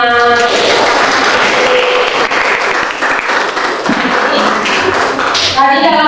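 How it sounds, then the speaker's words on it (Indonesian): Applause from an audience at a civil servant training session in Cirebon, a dense steady wash of many hands clapping with some voices and music mixed in throughout. "Oke, tepuk tangan."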